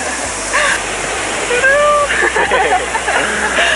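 Steady roar of a waterfall in New Zealand fills the scene, broadband and constant, with a few faint voices and splashes mixed in nearby.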